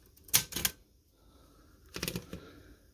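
A 104-year-old Corona 3 typewriter gives two sharp mechanical clacks close by, then after a pause a second cluster of quick clicks and rattles from its backspace action.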